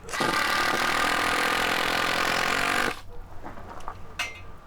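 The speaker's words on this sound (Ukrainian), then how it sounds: "Шуруп. Шуруповерт. Прикладаю, наживляю і одним різким" A power screwdriver drives a screw in one sustained, loud whirring burst lasting about three seconds, then stops, leaving faint room noise and a couple of light knocks.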